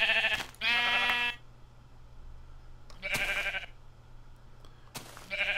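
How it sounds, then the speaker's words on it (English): Minecraft sheep bleating as it is sheared for wool, three separate game bleats, with the loudest near the start and a pause between each, with no talk. "blocks of wool from a sheep if you shear as opposed to kill it"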